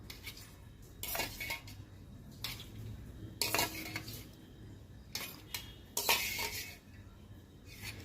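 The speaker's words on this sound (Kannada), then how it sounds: "ಮೆಂತ್ಯನ ನೆನೆಸ್ಕೊಂಡಿದ್ದೆ ಅದನ್ನು ಮಿಕ್ಸಿ ಜಾರ್ಗೆ ಹಾಕೋತಾ ಇದ್ದೀನಿ" Soaked fenugreek seeds go into a mixer jar for a hair pack, heard as a few close bursts of metallic clinking and scraping of a spoon against the jar with quiet gaps between.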